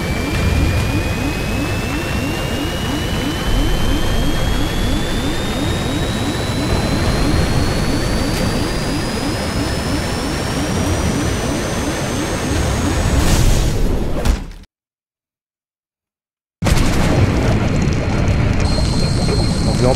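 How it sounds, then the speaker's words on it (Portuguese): A plane in the survival game Stranded Deep roars with a loud, sustained jet-engine drone and a rising whine, cutting to brief silence before the heavy rumble returns. "O avião aparentemente caiu dentro do mar, né?"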